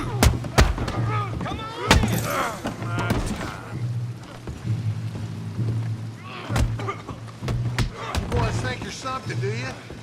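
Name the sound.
gunfire in Red Dead Redemption 2 video game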